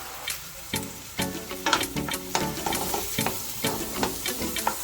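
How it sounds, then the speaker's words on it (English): Blended seasoning sautés in a pan for steamed cabbage, giving a steady crackling sizzle with frequent sharp pops and occasional stirring scrapes, close and continuous. "I'm going to let it saute for a little bit before I put the cilantro and the shadow benny in there."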